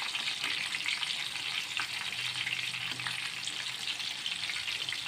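Chicken sizzles and crackles in hot oil in a frying pan, a dense continuous frying hiss with small pops and a brief low stir partway through.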